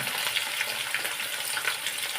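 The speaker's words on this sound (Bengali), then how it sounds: "আলু, শিম, মূলোগুলো একটু ভাজা ভাজা হতে থাক" Chopped potatoes, flat beans and radish fry in a pan with black cumin seeds, giving a steady, even sizzle with no talking.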